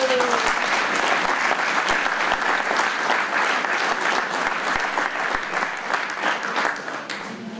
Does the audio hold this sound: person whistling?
no